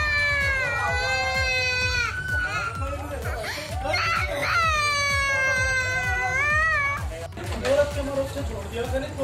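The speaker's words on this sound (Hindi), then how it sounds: "आप सुन सकते हैं बच्चे की चीख पुकार भी" A young girl cries and screams in distress, high wailing sustained throughout amid a scuffle, with adult voices shouting nearby.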